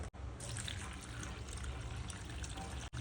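Water pours into a cooking pot while preparing sambar with toor dal, a continuous soft splashing stream heard fairly close, with a couple of brief dropouts and no clear talk over it.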